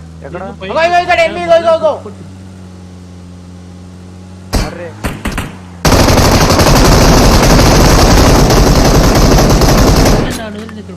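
Rapid automatic gunfire in a shooting video game, a loud sustained burst of several seconds preceded by a few short shots, with brief talk and game music at the start.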